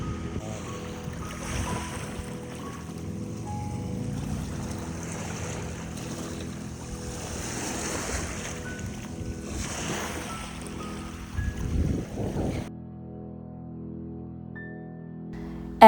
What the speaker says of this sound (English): we went near to the water and just sat there for a while, enjoying the sound of the water